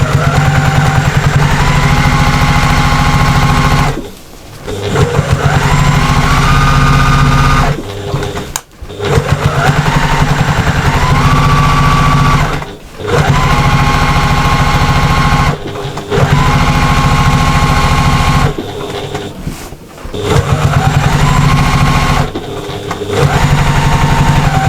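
Sewing machine stitching a seam on a diamond lap quilt, a loud, close, steady mechanical whir that runs in long bursts, stops briefly several times and starts again, with no voices.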